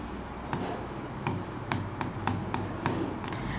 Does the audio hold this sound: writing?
yes